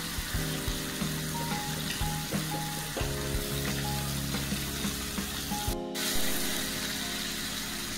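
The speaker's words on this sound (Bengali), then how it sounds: "হলুদ, লঙ্কা, জিরা, ধনে গুঁড়ো এবার জল দিয়ে পেস্ট করে দিয়ে দেবো।" A paste of turmeric, chili, cumin and coriander powder mixed with water sizzles and fries in a pan while cooking a Bengali egg dish, a dense continuous crackle close by with no talk.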